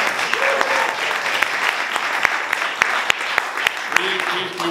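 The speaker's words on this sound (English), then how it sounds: "let's give him a big round of applause." Audience at a society kickoff event applauding a speaker, dense continuous clapping with sharp individual claps standing out nearby, and a few voices murmuring.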